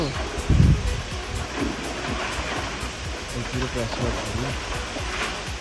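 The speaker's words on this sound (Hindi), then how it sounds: "ये वसुधारा का पानी ऊपर से बर्फ़ के साथ गिर रहा है।" Steady rushing and splashing of Vasundhara waterfall falling with snow, a broad continuous roar with a brief louder burst near the start; voices murmur faintly underneath.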